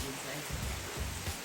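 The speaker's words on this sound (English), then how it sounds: "It looks like the rain is stopping." Rain falls steadily over a coffee plantation in Agaete, Gran Canaria, a dense, even hiss that fills the short stretch without pause.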